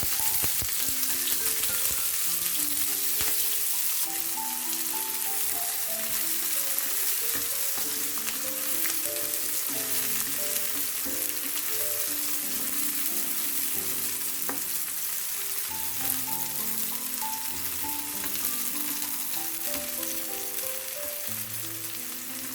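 Sliced onion and torn dried red chilies fry steadily in hot oil for Bengali spinach bhaji, a continuous close sizzle broken by faint stirring and scraping throughout, with no talking.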